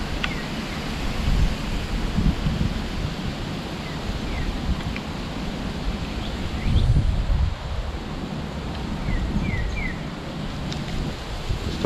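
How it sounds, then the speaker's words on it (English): Wind blows outdoors at a woodland fire-making spot, buffeting and rumbling steadily with occasional stronger gusts, and no one speaks. "I hope this wind ain't doing what I think it's doing there."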